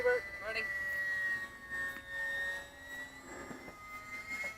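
An electric radio-controlled model airplane flies at a misty float-fly gathering, its motor a thin, high, wavering whine that rises and falls as it passes, with voices talking over it.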